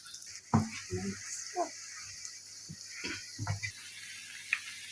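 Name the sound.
doughnuts frying in hot oil in a pan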